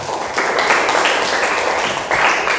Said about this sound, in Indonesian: Boleh kita berikan tepuk tangan untuk kelompok 1.